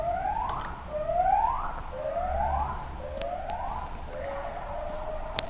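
An emergency siren passing outside wails in a steady rising-and-falling cycle, about five sweeps at moderate distance, fairly faint and heard alone over low background hum.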